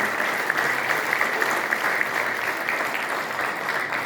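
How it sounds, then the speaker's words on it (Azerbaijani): An audience at the premiere of the film "Mübariz" at the Nizami Cinema Center in Baku claps continuously, a dense, loud, steady wash of applause from a full hall that keeps going for the whole stretch. "Bəli, alqışlar yaradıcıya."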